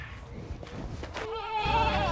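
Farm goats at lunchtime bleat close by, a wavering, quavering cry rising out of rustling background noise near the end of the moment.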